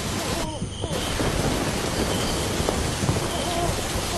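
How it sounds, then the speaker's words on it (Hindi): Heavy rain pouring steadily in a storm with low rumbling thunder beneath, a dense continuous hiss throughout, with a soft voice briefly heard under it. "कुछ समय बाद बारिश बहुत तेज हो गई। आसमान में जोर जोर से बिजली कड़कने लगी।"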